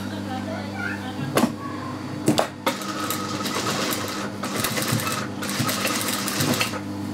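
A sewing machine stitches a straight seam through layered silk and net fabric, a fast mechanical whirring broken by a few short bursts and pauses, playing under a voice talking throughout.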